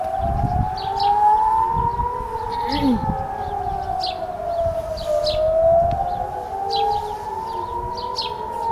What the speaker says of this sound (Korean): 이거는 저건데 공습 사이렌인데